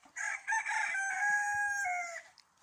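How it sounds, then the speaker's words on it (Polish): A broody hen makes a drawn-out, thin, high clucking call close by, one sustained wavering note lasting about two seconds, with faint rustling underneath. "i tak cichutko, cieniutko gdacze, tak kokosi się"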